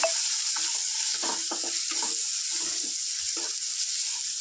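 Potatoes and chana dal frying in a pan give a constant bright sizzle, with soft scraping stirs breaking through now and then. Close and steady, with no voices.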